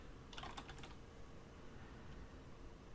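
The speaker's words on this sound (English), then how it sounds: "If I could type properly." A quick burst of computer keyboard typing, several fast light keystrokes close by, then only a faint steady background hiss with no talk.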